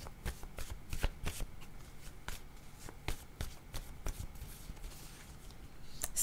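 Tarot cards being shuffled close up, a steady run of crisp riffling snaps and soft slides with no talking.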